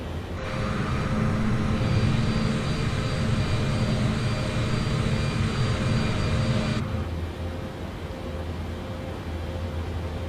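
Boeing 787 jet engines spooling up in a flight simulator game, a steady loud turbine roar and whine that holds for about seven seconds, then drops to a lower, quieter hum.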